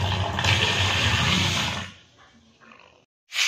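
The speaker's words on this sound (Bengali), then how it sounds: "এবার আমি চালটাকে ধুয়ে নেব।" Rice being washed in a pot under a running tap gives a loud rushing gush of water for about two seconds, then quieter sloshing and swirling, a brief silence, and the flow resuming abruptly.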